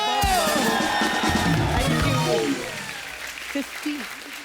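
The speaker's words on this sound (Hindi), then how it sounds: "सबसे पहले तो उषा जी के लिए इस बात के ऊपर तालियां बनती हैं" A studio audience applauds with cheers on a comedy show: a loud, dense burst of clapping that fades as a voice starts talking.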